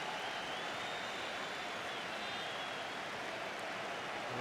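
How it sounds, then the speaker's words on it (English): A football stadium crowd claps steadily at a Chelsea v Manchester United FA Charity Shield match as United substitutes warm up behind the goal, a dense, distant patter of applause with no talk over it. "The applause you can hear is because United substitutes are warming up behind the goal"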